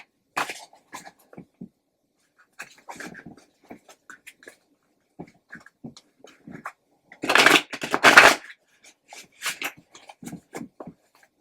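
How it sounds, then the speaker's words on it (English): Gothic Tarot cards being shuffled by hand, with scattered soft riffles and rubs, two louder bursts of shuffling near the end, close up in a quiet room with no voices. "from the Gothic Tarot, I will be pulling pulling 3 cards to describe the overall environment at this time"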